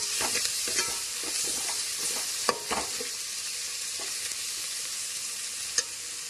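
Fried small onions and ginger garlic paste sizzle steadily in coconut oil while a spoon stirs the pan, with scattered scraping clicks over a constant hiss.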